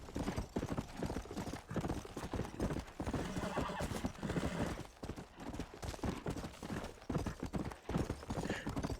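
A horse gallops in Red Dead Redemption: Undead Nightmare with rapid, steady hoofbeats close up, a whinny breaking in, and a voice faintly underneath.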